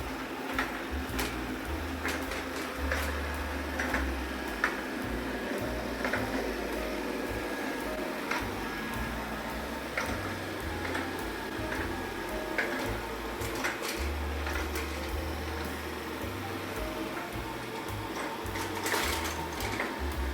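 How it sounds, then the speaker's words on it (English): A steady mechanical whir and rhythmic motor hum from a Shark Matrix 2-in-1 robot vacuum mop moving across the floor picking up crumbs, with small clicks and rattles throughout, no voices. "Those are the crunchies, and that's the vacuum there."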